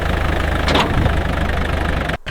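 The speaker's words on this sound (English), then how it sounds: "The diesel engines are roaring." The diesel engines of a giant vehicle on the savannah roar in a loud, steady, low rumble, cutting out briefly near the end.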